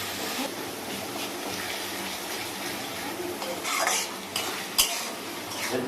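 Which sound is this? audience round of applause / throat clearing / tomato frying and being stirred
tomato frying and being stirred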